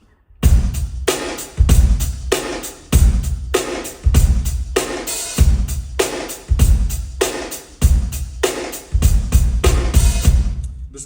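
A simple drum beat played at one flat, even loudness with no dynamics, steady repeating kick and snare hits under constant cymbal wash, loud and close, no talking.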